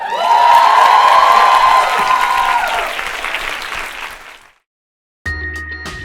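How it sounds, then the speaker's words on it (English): A fan convention crowd bursts into loud applause with cheering and high shrieks that fade away, then a short musical sting with a steady tone follows after a brief silence. "let's give them a huge round of applause"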